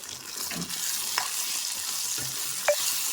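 Brinjal curry with chili powder is stirred in a pan, producing a soft continuous sizzle with a few light scrapes and a brief clink near the end, close and without speech.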